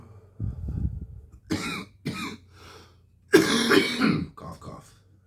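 Several rough coughs and throat clearings from one nearby person, coming in uneven bursts with brief pauses, the loudest cluster near the end.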